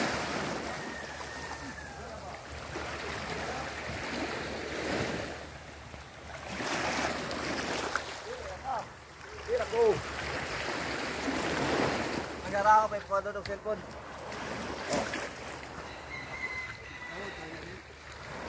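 Small racing boats on the water by a Cebulan beach, with surf and wind noise rising and falling throughout, and muffled voices talking intermittently in the foreground.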